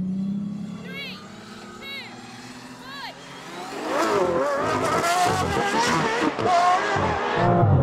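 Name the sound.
Aston Martin Valkyrie, Vanquish and V12 Vantage rolling drag race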